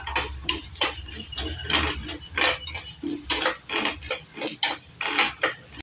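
Half a ladle of mustard seeds fry in hot oil, popping and crackling in quick, irregular bursts of sharp little snaps that keep going steadily up close.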